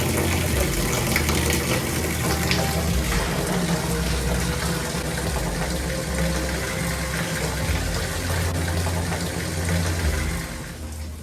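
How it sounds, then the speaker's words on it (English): Steady, loud rush of water draining continuously out of a duct, hundreds of gallons, with a low pumping rumble underneath and no voices. "we are draining hundreds of gallons of water out of this duct."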